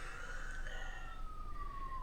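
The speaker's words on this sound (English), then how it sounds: "Excuse the sirens." An emergency vehicle siren wails from outside a home in a rough neighbourhood, a distant, sliding tone that slowly falls in pitch as it passes.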